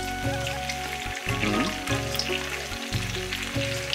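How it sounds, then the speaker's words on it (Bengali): Fish frying in mustard oil, a steady loud crackling sizzle with bubbling throughout, heard alone without speech. "প্রায় ভাজা উল্টাইলে হয়ে যাবে।"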